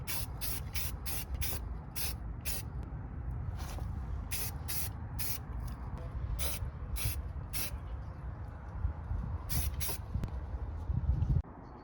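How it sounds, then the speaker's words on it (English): Spray paint hisses onto rusty rear brake backing plates of a 1971 Toyota Celica ST RA20 in a series of short, evenly spaced bursts over a steady low background hum, with no talking. "let's hit this with a little spray paint."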